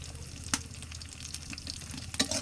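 Fish and okra fry in a pan while being stirred, a soft, steady sizzle broken by a couple of sharper scrapes of the spatula, close by and fairly quiet with no talking.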